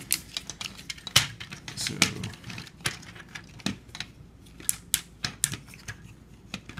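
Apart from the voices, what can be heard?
plastic Transformers Ultra Magnus toy parts being folded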